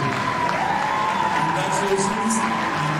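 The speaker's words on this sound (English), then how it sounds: "They need a standing ovation." A theater audience at a school production of Mamma Mia gives a standing ovation, steady dense clapping with cheering and crowd voices blended in throughout.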